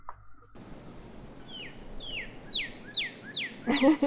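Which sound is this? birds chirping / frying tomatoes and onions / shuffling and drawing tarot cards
birds chirping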